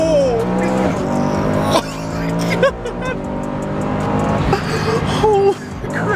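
A supercharged Mercedes S65 accelerating hard, its engine roaring loud and close with rising pitch and a tire squeal, while people talk and exclaim over it.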